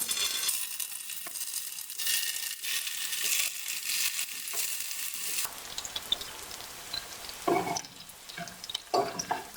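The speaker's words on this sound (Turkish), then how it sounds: "Şöyle ilk olarak köftelerimi kızartmakla işe başlayacağım." Steady crackling sizzle of meatballs frying in a hot pan, loud and continuous, with a few clinks and scrapes near the end.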